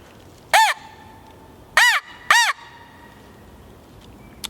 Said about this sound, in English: I'll just make a few loud bursts with the crow call